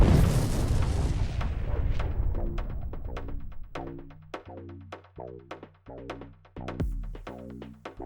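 A tank detonating in a fire near the village of Tonenke, with a heavy roaring blast fading into a series of distant booming explosions, echoing and spaced irregularly.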